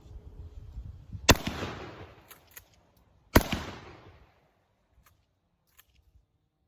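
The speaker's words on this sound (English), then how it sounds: "Let me try a couple of these other buckshot loads, some of these Sterlings, and I'll run 2 through real quick" Two loud blasts from a Mossberg 590 Shockwave shotgun firing Sterling buckshot, about two seconds apart, each a sharp close crack trailing into a short outdoor echo, with no talk.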